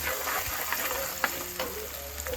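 Masala roasts in a pan for fried sardine curry, a close steady sizzle with light spatula taps and scrapes, no one talking.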